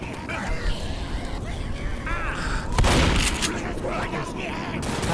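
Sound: shotgun gunfire in the video game Left 4 Dead

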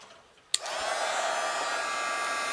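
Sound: heat embossing tool melting embossing powder on stamped frame

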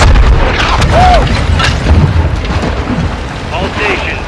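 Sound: artillery strike explosions in Call of Duty Modern Warfare 2 video game

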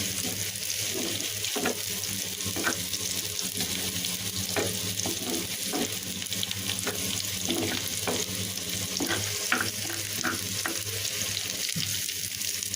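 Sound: onion and garlic frying in a pan

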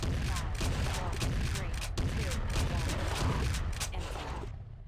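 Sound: gunshots fired at a T-Rex in video game Jurassic Park: Trespasser

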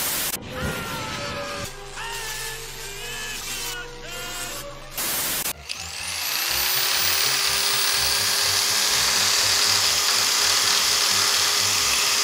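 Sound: power drill running

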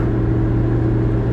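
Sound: 1935 Horch 850 Sport car driving

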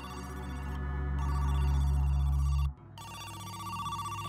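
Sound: phone ringing in the video game Who's Lila?

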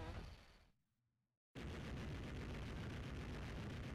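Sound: base exploding in video game Contra Hard Corps

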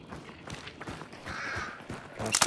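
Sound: crows cawing in video game Hunt: Showdown

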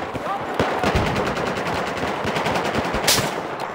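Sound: gunfire in the video game Battlefield 4

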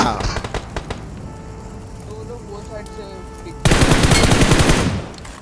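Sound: gunfire while knocking down an enemy in BGMI video game

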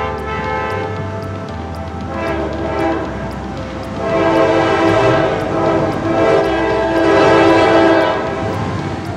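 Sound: K5LA train horn

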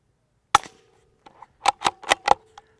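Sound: suppressed Savage B FESR .22 rifle shots, KGMade Swarm 22 silencer

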